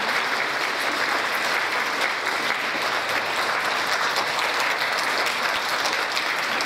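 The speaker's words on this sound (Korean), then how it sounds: "총장님께 박수를 보내주시기 바랍니다." Audience applause at an annual Saturday university dinner, a dense, steady clapping from a large indoor crowd that continues evenly throughout without voices.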